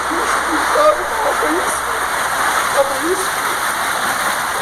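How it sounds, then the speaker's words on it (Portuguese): Rain falls steadily in a flooding residential neighbourhood, a dense hiss with water splashing nearby, while voices talk faintly underneath. "E aqui começou a chover agora"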